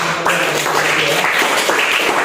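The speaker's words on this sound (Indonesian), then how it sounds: "Beri tepuk tangan buat" A classroom of students gives a brief round of applause during a physics lesson, a loud, close burst of many hands clapping together that holds steady for a couple of seconds, with a voice faintly audible underneath.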